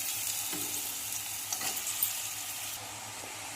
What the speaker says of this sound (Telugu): బీరకాయ అంతా ఈ స్టేజ్లో వేసేయాలి.